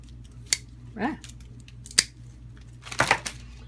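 Scissors or shears snip through rose stems for a suitcase floral arrangement, a few crisp close cuts spread out with a brief rustle and a burst of cutting near the end, as a person talks briefly.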